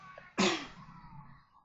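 A single sharp sneeze bursts out suddenly, close and loud, then fades quickly into quiet room noise during Minecraft SkyBlock gameplay.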